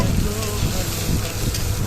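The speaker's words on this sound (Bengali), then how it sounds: "প্রথমে কড়াইতে আমি পেঁয়াজ কুচি, রসুন কুচি দিয়ে" Chopped onion and garlic fry loudly in a pan, a dense, steady sizzle close to the microphone with faint stirring underneath.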